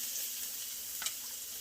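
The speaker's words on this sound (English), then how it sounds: "Adding her garlic in there, about 3 cloves. Wok sizzling hot." About three cloves of garlic sizzling in a very hot wok with olive oil, a steady close hiss of frying with one small crackle partway through.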